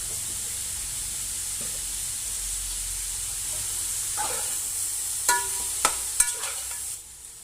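Onions being stirred in a pan during beef biryani preparation give a steady background sizzle, then several sharp scrapes and clacks of a spoon against the pan near the end, with no talking.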